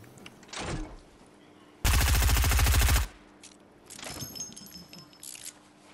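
Rapid burst of automatic gunfire in Fortnite, loud and close for about a second, with quieter game sounds before and after.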